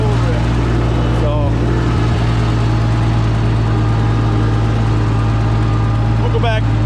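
A Minneapolis Moline G900 gas tractor engine runs steadily at close range, a loud continuous low rumble with a strong, even throb throughout, while a voice talks over it.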